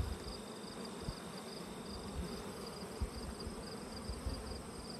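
A steady insect drone of many bees buzzing close by, a continuous dense hum with faint higher whine, no voices.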